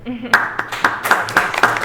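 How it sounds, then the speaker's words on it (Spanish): Sparse clapping from an audience at a press conference, about five or six distinct claps in a slow, uneven rhythm, fairly close, with a voice briefly audible at the start. "Y creo que la forma de agradecérselo es con un aplauso."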